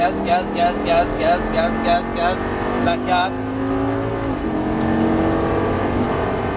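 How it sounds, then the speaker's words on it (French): A Lamborghini Gallardo accelerates hard on a track, its engine rising through revs in rhythmic pulses before a gear change and a sustained high whine, with a driving instructor talking over it. "Là, on commence à accélérer, on élargit. Allez, vas-y, accélère"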